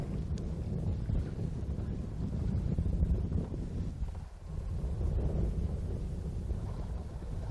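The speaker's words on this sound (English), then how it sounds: "The wind's blowing so hard, it's blowing us off the spot" Strong wind roars across a fishing boat out on open water, a steady, loud rushing buffet that fills the whole stretch with only a brief dip midway.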